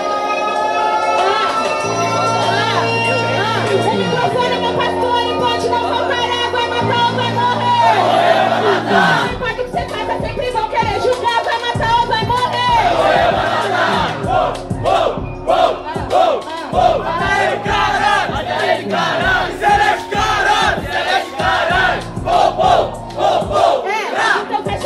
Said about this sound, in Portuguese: barulho para as rimas de Kisha